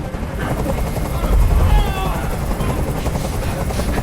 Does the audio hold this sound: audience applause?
no